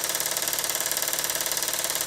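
A Meccano model engine driving a dynamo, running with a fast, even mechanical chatter and a regular pulsing rhythm, close and steady throughout with no talk.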